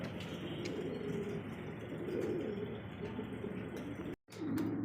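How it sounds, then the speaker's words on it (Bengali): A pair of big Mondian pigeons coo softly and steadily in low, rolling calls, fairly close, with faint background chirps and a brief silent gap near the end. "একজোড়া একদমই কিন্তু বিগ সাইজের মধ্যে মন্ডিয়ান কবুতর"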